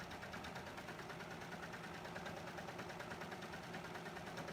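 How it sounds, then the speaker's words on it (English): A sewing machine stitches and gathers knit fabric along a top edge, giving a steady close motor whir with a fine rapid needle chatter that runs without a break. "So I'm just sewing right along the top."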